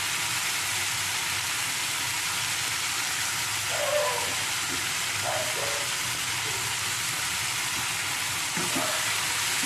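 Grated beetroot fried with chillies and vegetables in a pan for a mixed vegetable sandwich gives a steady, close sizzle, with a few soft scrapes and knocks from stirring along the way.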